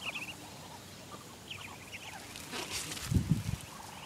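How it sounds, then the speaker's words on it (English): Ducks call faintly from a little distance, with a few short quacks and honks that turn louder and closer near the end, over a low outdoor background. "Random ducks."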